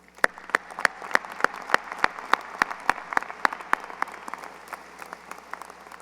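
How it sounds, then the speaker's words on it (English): Graduation ceremony crowd at Stevenson High School in 2017 applauding, one nearby clapper's sharp, evenly spaced claps standing out over a softer, steady wash of clapping from the hall. "Let's give them a round of applause."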